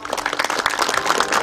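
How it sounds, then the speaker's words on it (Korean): Audience at a groundbreaking ceremony for a ceramic technology institute in Icheon applauds in a steady, dense patter of many hands clapping at once, sustained without a break. "여러분들 박수 한번 보내주시면 어떨까요?"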